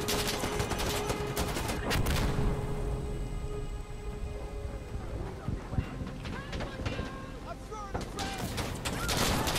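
Heavy gunfire during a prison riot match in Insurgency: Sandstorm, loud bursts of shotgun and rifle shots at the start and end with a steady, crackling battle din between, under in-game radio chatter and voices.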